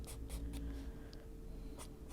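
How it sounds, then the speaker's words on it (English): A scratchy Caran d'Ache Cassel Earth colored pencil scratches across paper while darkening a lion drawing on an adult coloring page, giving close, steady rasping strokes with a few sharper bursts. "This is my scratchy pencil."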